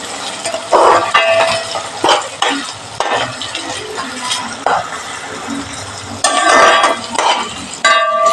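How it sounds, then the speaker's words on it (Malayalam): Sardine fish curry with ginger is stirred in a pan, with loud scraping and clattering strokes of a spoon over a steady background sizzle. "ഇഞ്ചി ഇട്ട് കഴിഞ്ഞാൽ നമ്മൾ നന്നായി ഇളക്കിയെടുക്കണം."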